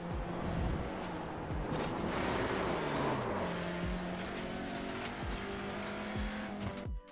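Touring race cars in the iRacing simulator roar past at high revs while tires squeal in long, sweeping tones. Engine pitch rises and drops through gear changes, loud and continuous throughout.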